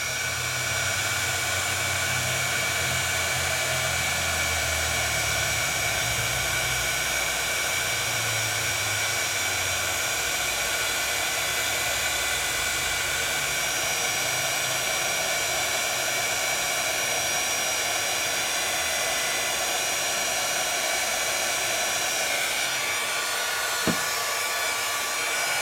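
A heat tool blows steadily for a long stretch while melting clear embossing powder on a stamped craft project, a loud, even, fan-like hiss with no talk over it.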